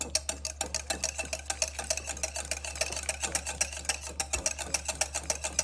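A whisk beats warm chocolate pie filling with melting butter in a bowl, a quick regular clicking rhythm of strokes, close and fairly quiet, with no talk.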